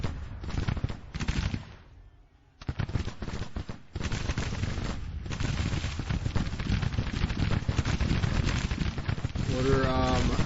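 Dense rolling volleys of musket and cannon fire crackle and thump in Grand Tactician: The Civil War, with a brief lull near the start before salvos resume and continue heavily to the end.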